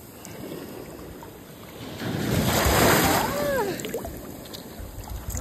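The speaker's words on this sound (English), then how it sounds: "You gotta be careful because these tides wash up on you." Ocean waves wash up onto a Cancun beach, a soft swell of surf that builds to a rushing peak midway and then recedes, with light wind and faint voices in the background.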